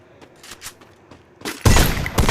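Gunfire from the Free Fire mobile battle game, landing a headshot: quiet game sounds at first, then a loud, dense burst of shots near the end, close and sharp, with no talking over it.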